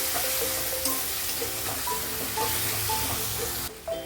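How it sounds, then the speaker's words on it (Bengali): Spice masala frying in a pan with hot water added, a dense, even hiss and bubbling sizzle running throughout, close up, with faint clinks and no speech. "এখন মশলাটা ভালোভাবে কষিয়ে নেবো"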